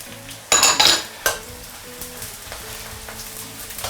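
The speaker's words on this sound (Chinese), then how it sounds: "我们先下大葱，这是开中火， 再下入这个" Scallions and shallots frying in oil over medium heat, a sharp sizzling burst as they hit the pan, then a quieter steady crackle with a few stirring clinks and scrapes.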